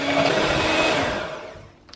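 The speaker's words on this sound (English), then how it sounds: "now I'm going to use electric beaters and I'm going to whisk up cream until it's just starting to" Electric beaters whisk cream in a bowl for a chocolate mousse, making a loud steady motor whir that fades toward the end before a faint tap.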